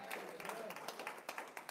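A church congregation clapping, a spread of uneven, fairly quiet claps under a person's talking voice.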